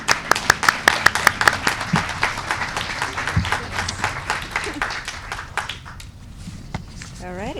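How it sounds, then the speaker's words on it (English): An outdoor crowd claps to welcome the Seattle transportation department director at an Earth Day event, steady applause fading after several seconds as a voice begins talking. "Let's give a warm round of applause."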